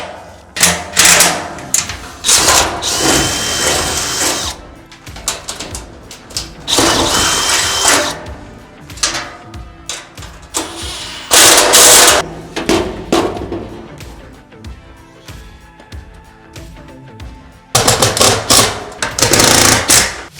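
A power tool rattles in short, loud, hammering bursts as it torques down bolts for a Holman work van shelf on the floor of a RAM ProMaster, with pauses and shuffling in between.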